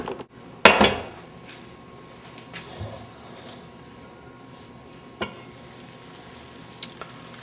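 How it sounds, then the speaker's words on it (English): A pot of beef stew with potatoes and thyme is stirred after oven cooking, with a loud metal clank of spoon against pot, then soft scraping, light sizzling and a few smaller clinks, no talking. "Stir it up a little bit."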